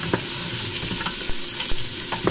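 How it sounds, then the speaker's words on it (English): Vegetables sautéing in an Instant Pot for soup, a loud, close, steady sizzle broken by repeated spoon stirs and scrapes against the pot, without any talking. "Veggies are pretty much done with sauteing"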